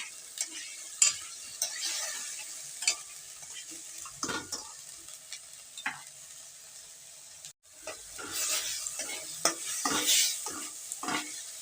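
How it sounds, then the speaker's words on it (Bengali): Spice masala with turmeric and salt sautés in a pan for a Bengali egg curry, a hissing sizzle with repeated scraping stirs, briefly dropping near silent before the frying swells louder again. "মশলাটাকে ভালো করে কষে নিতে হবে"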